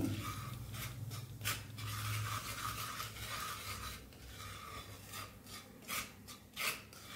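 Spices stirred in hot oil in a pan for a makhana chaat, a steady scraping and rasping of spoon against pan with soft sizzle, close and fairly quiet, no talk.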